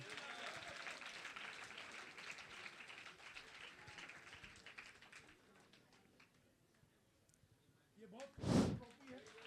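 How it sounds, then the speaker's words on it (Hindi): A live audience at an award ceremony applauds for Anand, a broad wash of clapping under a crowd murmur that thins, then one sharp loud thump near the end. "तो एक बार जोर से ताली बजा दीजिए आनंद के नाम पे"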